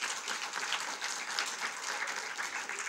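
An audience claps in a continuous round of applause at an awards show, a dense, even patter of many hands that holds steady without a break.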